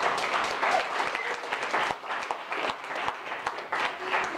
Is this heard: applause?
yes